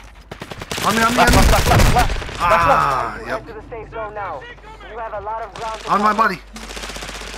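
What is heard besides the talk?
gunfire from the video game Call of Duty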